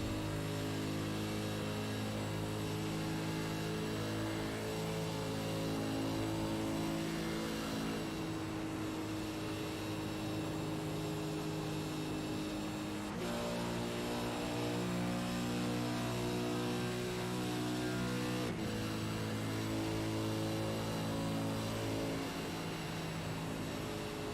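A race car engine in a Supercars racing video game at Atlanta Motor Speedway revs hard and steadily, droning at high pitch with brief shifts where the tone drops and climbs again, loud and close throughout.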